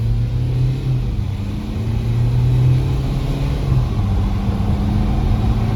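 A 2018 GMC Terrain SLT diesel accelerating at full throttle, a loud, steady low engine drone and rumble from inside the cabin that holds throughout.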